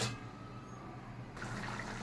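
Water pours steadily into a pot of hilsa fish curry, a continuous close splash and wash of liquid that swells slightly partway through.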